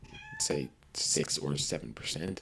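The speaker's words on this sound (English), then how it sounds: "That's the cat." A house cat lets out a couple of short meows close by, mixed in with someone talking over them.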